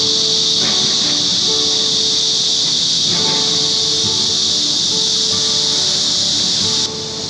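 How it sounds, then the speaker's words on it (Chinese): Cicadas droning in summer along a former railway line turned bike path in Taiwan, a loud continuous high-pitched buzz filling the whole stretch before dropping off abruptly near the end. "夏日的台湾是蝉声好"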